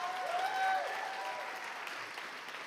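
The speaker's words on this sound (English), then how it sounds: "Can we please get a round of applause for all the candidates for their hard work campaigning?" A student audience at a university guild election results night applauds the candidates, a soft, diffuse patter of many hands heard at a distance, with a brief whistle-like tone near the start.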